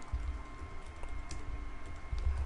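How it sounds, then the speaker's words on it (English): Keys tapped on a computer keyboard to enter a search term, a short run of light clicks over a low hum and steady background noise. "So I'm going to type in solutions architect"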